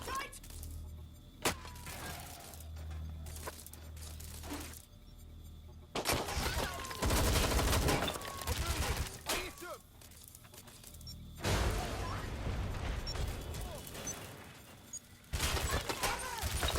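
Gunfire in the video game Watch Dogs: Legion, with loud bursts of shots and rapid fusillades coming in several clusters, some shattering and whooshing between them, and voices talking throughout.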